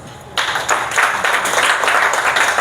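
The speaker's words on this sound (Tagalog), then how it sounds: "Palakpak." An audience at a women's conference bursts into applause, a sudden loud wave of clapping that keeps going steadily and close by.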